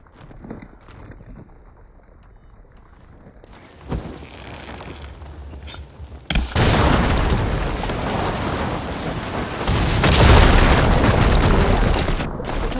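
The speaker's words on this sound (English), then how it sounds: "Hitting those blaze barrels with fire ammo should do the trick." Blaze barrels struck with fire ammo in Horizon Forbidden West go up in a loud, sudden explosion. Small sharp bangs come first, then a heavy roaring blast that rumbles on with a second surge of burning debris and crackling fire.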